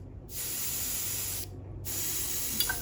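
Close, steady hiss of an airbrush laying light paint coats on a Pink Horror miniature, starting after a silent beat and pausing once midway, with a faint tap near the end.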